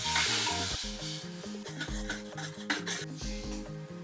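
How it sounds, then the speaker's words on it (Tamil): Ground paneer mix goes into a sizzling red pasta sauce, with loud frying sizzle and stirring scrapes over a steady backing of music, no one talking. "இப்போ வந்து நான் அரைச்சி வச்சிருக்க இந்த பன்னீர் மிக்ஸை ஊற்றிக்கிறேன்."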